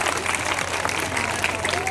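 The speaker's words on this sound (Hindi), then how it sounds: "सभी इन कलाकारों के लिए साथियों जरा जोरदार तालियों से इनका स्वागत करें" A crowd at an all-night devotional jagran gives performers a welcoming round of applause, a thick steady patter of many hands with voices mixed in underneath.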